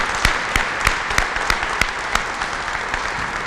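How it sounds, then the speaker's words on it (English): A graduation ceremony audience applauds in a steady wash of clapping, with a few louder individual claps standing out at regular intervals over several seconds. "one more round of applause for Megan"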